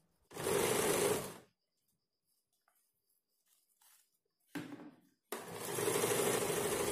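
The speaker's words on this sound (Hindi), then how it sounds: "नीचे की तरफ भी मोहरी पे हमें और एक सिलाई लगाना है।" A sewing machine stitches the hem of a puff sleeve in two loud, close bursts, a long one and then a longer one after a short pause with a brief start-stop in between.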